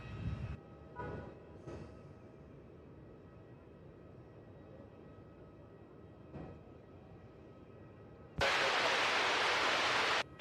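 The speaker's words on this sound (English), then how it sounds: "We're about to see a Scoot. takeoff. Here's the 777." A Scoot Boeing 777 jet takes off at Melbourne Airport, heard at a distance as a low roar and then a loud, wide burst of jet noise in the final seconds, with no talk over it.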